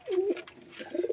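Domestic pigeons coo close by, two soft throaty calls over about a second, the first longer and rolling, the second shorter, with no talk.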